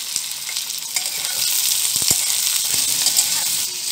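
Chopped onions sizzle and fry in hot oil with whole cumin over medium heat for paneer do pyaza, a bright, steady crackling hiss with occasional soft stirring clicks.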